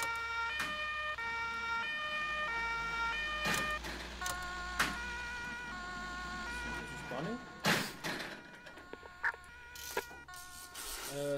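Fire engine sirens wail in the Emergency 4 game, several tones layered and steady with sharp horn-like blasts, under someone talking.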